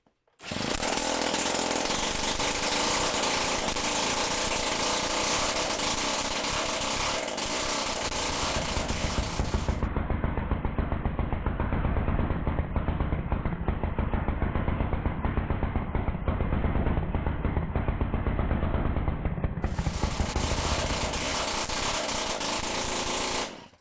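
A homemade billet aluminum two-stroke engine running steadily, a loud, continuous, rapid-firing buzz close to the microphone that holds the whole time, with no talking.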